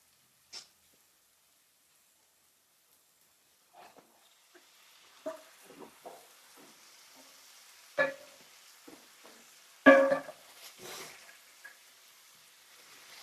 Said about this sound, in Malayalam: നമ്മൾ ഷാലോ ഫ്രൈ ചെയ്യുന്ന ചിക്കൻ ഇട്ടെടുത്തിട്ട് മിക്സ് ചെയ്യാം